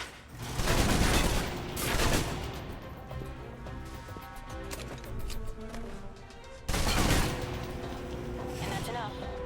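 Rapid submachine gun bursts in the Alpha Protocol video game, loud repeated volleys with clattering mechanical detail. The firing comes in two heavy bursts separated by a busier stretch of smaller shots and impacts, and no talk can be heard.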